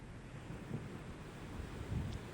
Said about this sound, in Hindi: अब जो लहरें हैं उनकी शिद्दत में इजाफा हो रहा है